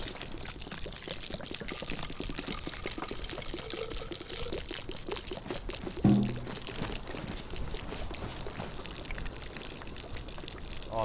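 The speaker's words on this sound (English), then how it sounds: "Oh, I'm still hearing the pouring noise." Continuous trickling pour of water from a canteen in the video game DayZ, a steady moderate-level flow running the whole time with a brief louder thud midway and no speech.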